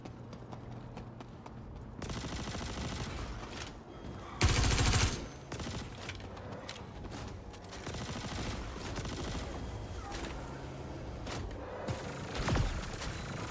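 Automated AI FPS turrets firing guns in Star Citizen during PTU testing, heard as continuous, dense gunfire throughout, with a sharp louder burst near the middle and another near the end, mixed with game background noise.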